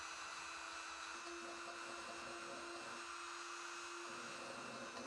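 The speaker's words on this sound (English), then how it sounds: "The Dremel is a great time saver for cleaning up these small parts" A Dremel rotary tool with a small fine wire brush cleans small metal parts of a wooden mechanical metronome, giving a steady high-pitched whine with a buzzing hum running continuously and fairly loud throughout.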